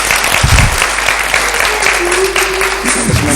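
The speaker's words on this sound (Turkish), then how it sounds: "Canlı bir alkışla, canlı bir alkışla ne diyoruz?" Live applause from an audience greeting a performer at a Turkish music show, loud dense clapping filling the whole moment with crowd noise and no speech.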